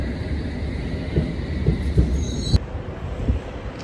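A London Underground train pulling into Ealing Common station, a loud, steady rumble with rhythmic wheel clatter and a brief high squeal from the wheels partway through, heard from the platform with no talking.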